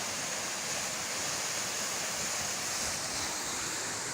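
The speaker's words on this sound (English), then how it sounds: "That's a small waterfall" Small waterfall in Ghana near Shiare, a continuous broadband rush of falling water heard steadily at close range, with no speech.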